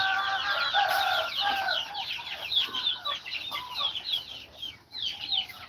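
Farm chickens clucking and chattering in repeated short calls, a busy, fairly close flock sound with no talking.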